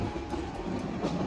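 Train noise at an airport railway station platform at night, a steady rumbling wash with faint rhythmic clatter, moderately quiet and continuous, no voices.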